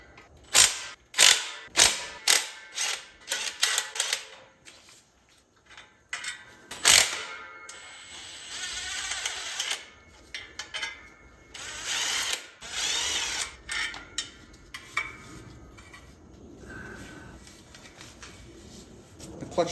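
An impact wrench fitted with a non-impact socket loosens a bolt during a clutch job, firing several sharp hammering bursts in quick succession, then softer ratcheting and clattering of tools and parts nearby.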